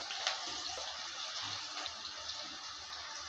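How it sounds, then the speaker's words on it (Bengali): Long-cut slices of a large eggplant hit hot oil in a pan, giving a loud, steady, close sizzling hiss that holds without break. "তেলটা হিট হয়ে গেছে। এবার দিয়ে দিচ্ছি বেগুন।"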